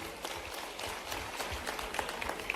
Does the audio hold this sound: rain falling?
no